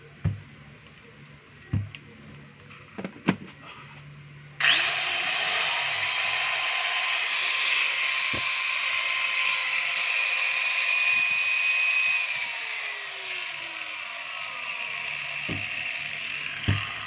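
A Black and Decker KG15 4-inch angle grinder, fitted with a new gearbox and carbon brushes, starts up after a few handling clicks and runs with a steady high-pitched whine for about twelve seconds before winding down.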